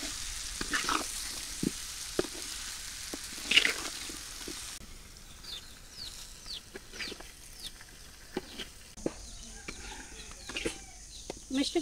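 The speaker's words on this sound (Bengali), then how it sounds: "তো আজকে মিষ্টি কুমড়া আমি ভাজবো।" Sweet pumpkin fries in hot oil with turmeric, chili powder and salt, a soft crackle under scattered clinks and stirring knocks, while chickens cluck faintly in the background.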